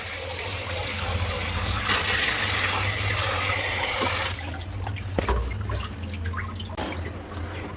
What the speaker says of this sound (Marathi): ह्याच्यात पाणी भरायचं.